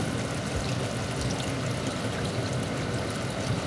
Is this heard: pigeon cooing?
no